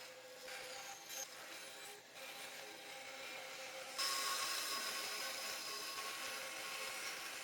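A bandsaw cuts a chef's knife blank of Nitro V steel, giving a faint steady hissing whir that grows louder and brighter partway through as the blade engages the metal.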